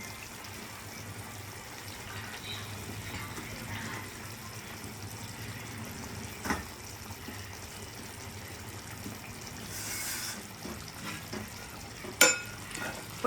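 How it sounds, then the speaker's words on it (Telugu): Potatoes are stirred and turned in a pan of simmering chicken kurma, Andhra style, giving soft, quiet scraping and gentle bubbling with a few sharper knocks near the end. "ఇప్పుడు నేను ఆలూని మిక్స్ చేస్తున్నాను, బంగాళదుంపల్ని."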